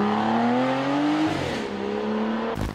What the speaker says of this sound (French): Ce V12 exceptionnel, un seul moteur sur Aston Martin Rapide, le V12 Aston 5 litres 9